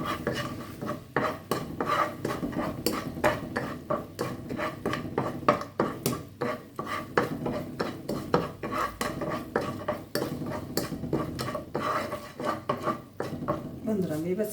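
Flattened rice (chira) being pan-fried for Bengali chira bhaja is stirred with a spatula, making quick, rhythmic scraping and clinking against the metal pan.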